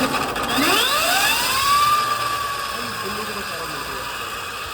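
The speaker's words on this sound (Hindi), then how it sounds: "मैं आपको दिखाता हूँ एक्सीलेटर देके इसके रियर व्हील का व्यू।" An Ultraviolette F77 electric motorcycle's rear wheel spins up under throttle, its motor whine climbing in a smooth rising sweep, then holding a steady high tone that slowly eases, close and continuous.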